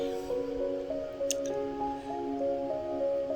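Chicken khichuri nearly cooked at a rolling boil in a pot, stirred with soft wet squishes and drips, close and steady over a continuous tonal hum, with no talking.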